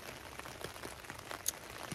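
Rain falls on the Appalachian Trail, scattered drops pattering and ticking irregularly over a soft wash, with one sharper tap midway.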